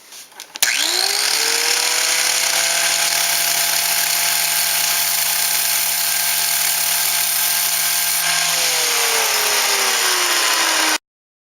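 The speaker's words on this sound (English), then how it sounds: "the way I file this or grind this or cut this first is to use a cutoff wheel, and I'll do that now" A cutoff wheel slicing a slot into a steel pinion gear motor shaft: the tool spins up, then holds a loud, steady high-pitched grinding whine for about ten seconds before winding down.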